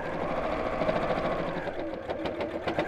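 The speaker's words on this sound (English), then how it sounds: "And sew straight across" A sewing machine stitches straight across a small pinwheel pincushion seam, a steady mechanical whir with rapid needle chatter running throughout at close range, without talk.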